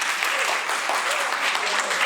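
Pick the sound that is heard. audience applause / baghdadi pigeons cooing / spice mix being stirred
audience applause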